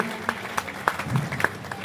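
Audience applause in a hall at a kavi sammelan during a Hanuman festival in Jhansi, greeting a young girl bhajan singer; scattered claps with a few sharp loud hits stand out over a low crowd murmur, moderately near.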